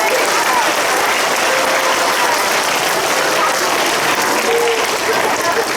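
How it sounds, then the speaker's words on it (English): Loud, dense applause from children and staff at an upper primary school assembly, sustained and even throughout with a wash of crowd noise. "Give a round of applause, everyone."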